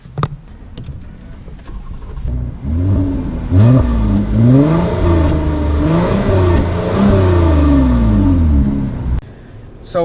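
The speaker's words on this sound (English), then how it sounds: "let's listen to the exhaust note, because Toyota actually has an active exhaust for when you put it on sport mode" A 2019 Toyota Avalon in sport mode with its active exhaust open revs up repeatedly, its pitch sweeping up and down in loud, throaty surges, then drops back to idle.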